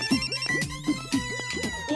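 A phone call rings in a Hindi children's cartoon, a bright repeating electronic ringtone pulsing in about four quick bursts over two seconds, loud and close with no voices.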